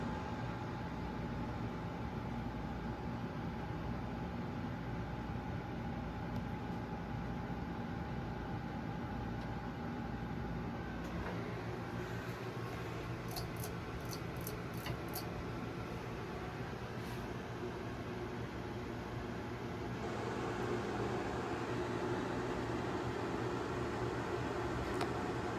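Continuous low motor hum and airy whir from a running five-blade white and brass Fasco Charleston ceiling fan, steady and fairly quiet, with a few faint high ticks partway through and a slight shift in tone near the end.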